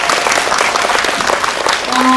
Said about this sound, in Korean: 감정씬을 보여주신 두 분께 또 박수 부탁드릴게요.